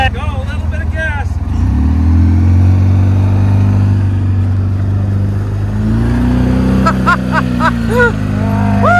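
An off-road rig's engine revs and holds a strong, rising growl while wheeling on a trail, loud and close, with people talking over it at the start and end.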